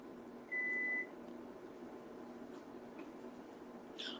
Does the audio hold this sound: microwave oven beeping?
yes